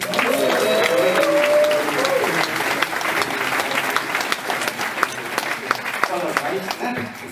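Loud, sustained audience applause at the 68th Bürger- und Polizeifest greets Emilio, a dense wash of clapping from a large crowd that thins slightly toward the end, with voices mixed in.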